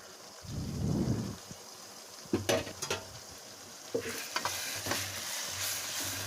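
Crab gravy masala being sautéed and stirred in a pan gives a steady sizzle, broken by an early whoosh of frying and several scraping spoon strokes against the metal.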